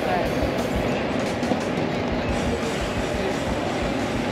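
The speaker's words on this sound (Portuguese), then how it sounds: "Pegamos o trem em Milano e descemos na estação de Como, São Giovanni." A passenger train at Como San Giovanni station after the ride from Milan, a continuous loud rumble with rattling wheels and carriage noise throughout, no talk over it.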